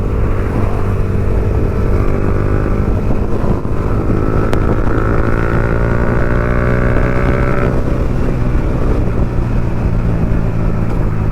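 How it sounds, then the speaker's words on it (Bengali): A motorcycle is ridden along a road, its loud engine droning steadily and close throughout with a strong buzzing tone that climbs briefly, without letting up. "অনেকদিন পর গাইস এইভাবে চালাচ্ছি বাইক, তো ভাই আলাদাই মজা লাগছে"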